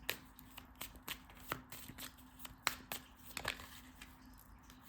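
Angel oracle cards being shuffled by hand at close range, a run of crisp riffling snaps and flutters in irregular bursts over a quiet room with a faint steady hum, no talking.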